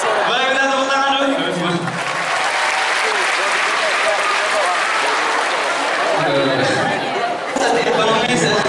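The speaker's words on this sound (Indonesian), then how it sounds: "boleh kita tepuk tangan dulu?" A comedy-club audience at an Aceh stand-up show breaks into loud sustained applause mixed with cheering and chatter for several seconds, with the comedian speaking briefly before and after.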